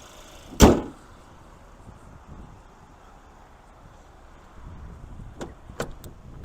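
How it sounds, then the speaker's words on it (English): A single sharp, close thunk as the hood of a 2023 GMC Terrain with a 1.5-liter turbocharged four-cylinder is released, followed by quiet outdoor ambience and a few faint clicks near the end. "let's pop this hood"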